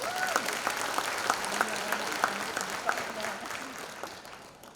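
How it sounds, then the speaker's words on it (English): An audience claps after a dance performance at a multicultural event, sustained applause with a speaking voice running over it that fades toward the end. "Another round of applause for Ya Opera Dance."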